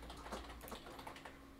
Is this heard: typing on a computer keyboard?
yes